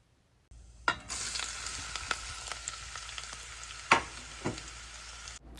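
Onion, ginger, garlic and curry leaves fry in a pan with a bright, steady sizzle that jumps up suddenly, then carries on with scattered stirring taps and scrapes.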